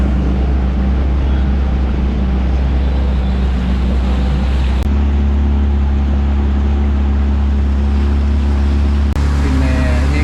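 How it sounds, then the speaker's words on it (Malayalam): Motor boat travelling on water, a loud continuous engine drone with wind and water rush, close and constant throughout with a couple of brief clicks. "നമുക്ക് മുമ്പേ ഒരു ബോട്ട് കൂടെ പോകുന്നുണ്ട്."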